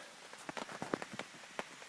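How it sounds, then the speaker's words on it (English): Rain patters steadily at a campsite, with scattered close drops ticking sharply against a surface over a soft, continuous hiss, quiet and without voices. "and it's raining"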